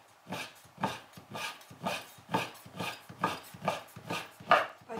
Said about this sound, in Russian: Тесто не прижимаем сильно пальцами, а аккуратненько вот так вот тоненько режем